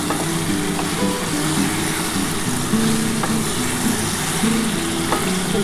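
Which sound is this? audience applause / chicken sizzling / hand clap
chicken sizzling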